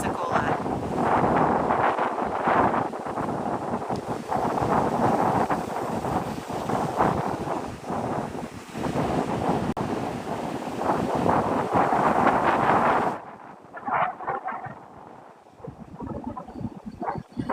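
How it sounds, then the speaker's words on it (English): Strong wind blowing across Opal Beach near Pensacola, Florida, at sunset, buffeting the microphone with a loud, gusty roar and a hint of surf, before dropping to a thinner, lighter gust near the end. "It is windy here, yeah."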